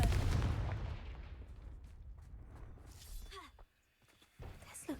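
A Confringo blast spell cast in a Hogwarts video game bursts loudly with a crackling, shattering impact that decays over a few seconds, followed by a quieter pause and faint lingering effects.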